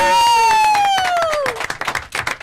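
Studio audience applause on a French television talk show: a voice holds a sustained sung or spoken tone at first, then a crowd's clapping breaks out, sharp and irregular, growing more prominent toward the end.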